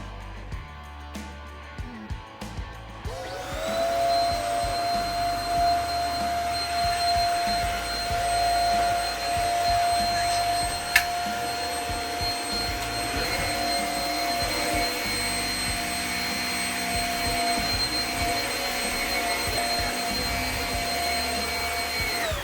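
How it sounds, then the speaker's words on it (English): A vacuum cleaner starts up after a few seconds of shuffling and runs steadily over a rug in an RV with a loud, whining motor drone, close by. "get out the vacuum cleaner"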